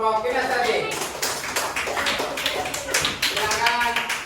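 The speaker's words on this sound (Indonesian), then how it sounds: "sekali lagi tepuk tangan untuk kelompok kinestetik" A class of students clapping for a group in a lesson, with uneven bursts of hand claps and voices talking over the clapping.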